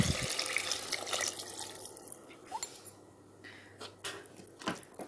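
Water is poured into a pot of rice for pulao in a home kitchen: a splashy stream at first, then quieter trickles, drips and a few metallic clinks of utensils.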